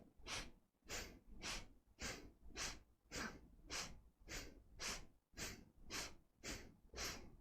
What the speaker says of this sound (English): So reverse breathing.